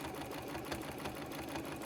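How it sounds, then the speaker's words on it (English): A home sewing machine's needle pounds steadily through stiff, dyed batik fabric during free motion quilting, a loud, continuous rapid mechanical thumping with no voices. "there's more needle noise as it goes through the fabric"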